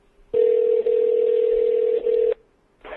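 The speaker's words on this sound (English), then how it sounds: "We'll see if we can get James on the phone real quick" A telephone line tone sounds while a call is placed to a cattle ranch: one steady, loud electronic tone lasting about two seconds, then a brief pause before a second tone begins.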